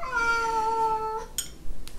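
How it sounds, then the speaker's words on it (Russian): A pet cat gives one drawn-out, close meow that starts high and slides down, followed by short faint clicks and rustles in a quiet indoor room where dinner of ramen and kimbap is being eaten. "Приветствует вас мой кот Лео"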